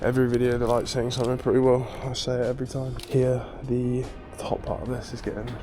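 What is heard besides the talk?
None of the usual background noises is heard.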